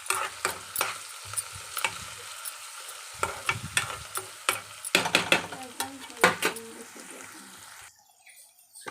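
Amaranth leaves frying in a pan for a Telangana-style fry, seasoned with green chili paste and salt, stirred with repeated sharp scraping clicks over a steady sizzle; the sound drops away near the end.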